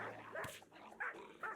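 Dogs in the colony sim game Rimworld bark in a quick run of sharp yaps and whimpers, with several short bursts spaced across a moment of play.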